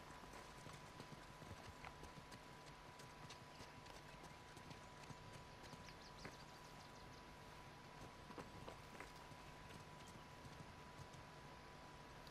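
Horse hooves clip-clop steadily at a riding pace in Uncharted 4, a continuous rhythmic clatter of hoofbeats over ambient game sound, with no one talking.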